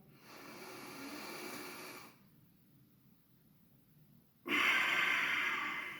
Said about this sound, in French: Voilà l'exemple de respiration.